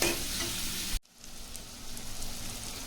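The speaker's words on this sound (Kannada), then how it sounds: "ಈಗ ಚೆನ್ನಾಗಿ ಫ್ರೈ ಆಗ್ತಾ ಇದೆ ಅಲ್ವಾ" Mushrooms fry in a pan with a loud, dense sizzle that cuts out abruptly near the one-second mark, then returns as a quieter, steady frying hiss with faint stirring.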